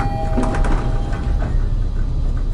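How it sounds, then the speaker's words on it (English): Hotel elevator doors slide shut with a steady mechanical whir and light rattling clicks, close and fairly loud throughout, with no voices. "the doors slide shut"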